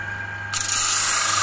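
Sandpaper rubbing across a piece of birch plywood, starting abruptly as a continuous close scratchy abrasion over a faint background hum, with no talking.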